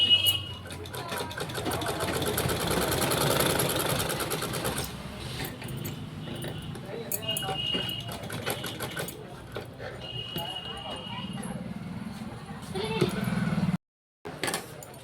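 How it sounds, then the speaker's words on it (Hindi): A sewing machine runs close by, stitching a sleeve onto blouse fabric in bursts of rapid mechanical whirring, with a brief pause near the end and someone talking over parts of it. "इस तरह से रखने के बाद इसके चारों तरफ हमको सिलाई लगा देनी है इस तरह से।"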